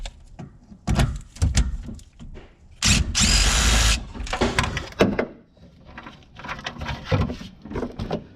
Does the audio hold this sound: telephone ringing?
no